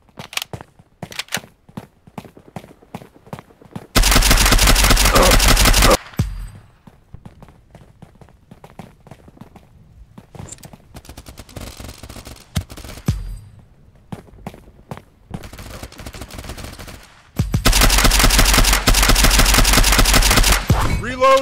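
MP 40 submachine gun fired in a World War II-era video game, two long sustained automatic bursts of several seconds each, loud and close, separated by quieter footsteps, clicks and game ambience.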